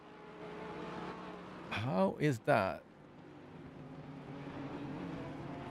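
Racing car engines from a GT3 sim race at Kyalami drone steadily in the background, dipping while someone speaks briefly, then swelling back as a continuous low hum.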